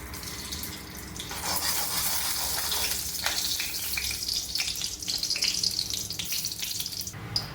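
Ghee heating in a kadai on a gas stove, a steady close sizzling hiss with crackling bursts and popping spits that build over several seconds, no talk.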